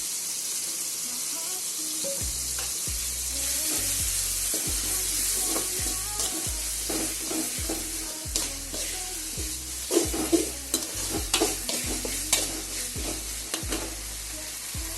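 Tomatoes frying with ginger garlic paste for a tomato curry, a continuous sizzle with repeated spoon scrapes and stirring knocks growing busier toward the end, while a low tonal hum runs underneath.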